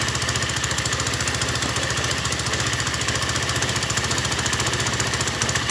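Chinese quad engine running in gear, a loud, rapid, steady mechanical chugging with a knocking rhythm throughout, close up and alone.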